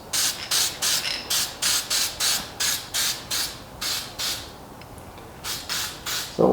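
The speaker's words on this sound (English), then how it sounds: "I could just spray the head," Short repeated bursts of aerosol spray hissing close by onto the engine head of a 1981 Pontiac Trans Am, about a dozen rhythmic pulses with brief pauses, then a few more after a gap.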